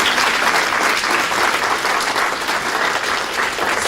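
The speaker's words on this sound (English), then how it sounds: "Can we have a round of applause for our panelists?" Audience applause for a panel at a job-training event, steady, dense and fairly loud clapping from a full room that carries evenly to the end.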